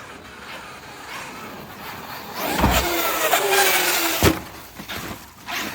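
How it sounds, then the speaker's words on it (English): A Traxxas X-Maxx RC truck's electric motor whirs quietly and then rises to a louder, rough whine as the truck drives. Sharp knocks from the truck bouncing break in partway through, and there is no talk. "That motor sounds good, actually."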